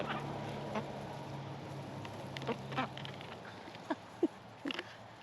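Scattered duck quacks on a farm, a few short calls spread over several seconds, moderately close against a quiet outdoor background.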